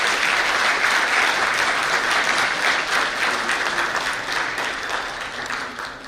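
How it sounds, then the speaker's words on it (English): A hall audience at a national management convention gives loud, sustained applause to welcome the District Magistrate onto the stage, dense steady clapping that tapers slightly near the end. "We may have a loud applause for his lovely presence."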